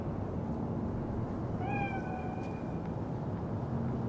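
A single cat meows in Cyberpunk 2077, a short, clear, rising-and-falling call standing out against a steady background hum.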